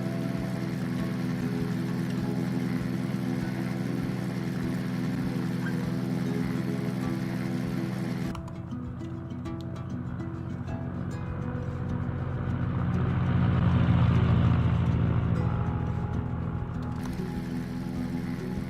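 A propeller aircraft engine in the retro flight sim game Legendary Pilots drones steadily throughout, its tone shifting midway and swelling slightly louder later on, with no speech over it.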